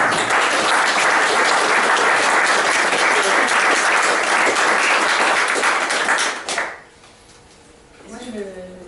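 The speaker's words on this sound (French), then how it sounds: "je suis fière de pouvoir vous applaudir" Corporate group welcome with loud, sustained applause from a full room, a dense crackle of many hands that drops away abruptly near the end, leaving a faint voice and quiet room tone.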